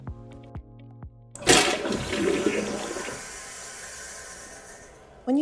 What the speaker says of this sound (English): When you flush the toilet